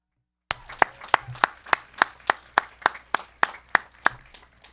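A graduation audience at TZHS gives a round of applause for the graduates' families: about a dozen distinct, evenly spaced claps ring out, fairly loud and crisp, with a softer wash of clapping beneath them and no talking.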